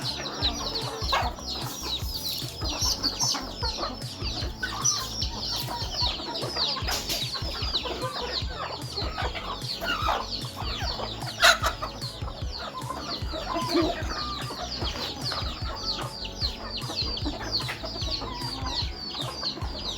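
Native desi hens cluck and chatter continuously, a busy flock close by with overlapping calls and no talking.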